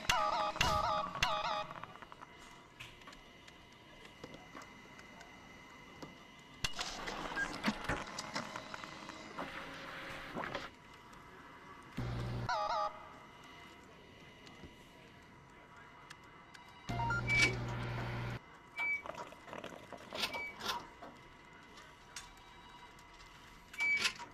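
An in-game vending machine in Job Simulator whirs and clicks in short mechanical bursts while dispensing food, separated by quiet gaps and mixed with occasional talk.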